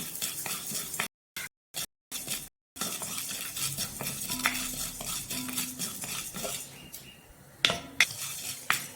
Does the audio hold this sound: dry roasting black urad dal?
yes